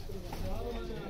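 Soft, low cooing from Lal Pari breeder pigeons carries on continuously in the loft, fairly close and not loud, with a voice faintly mixed in.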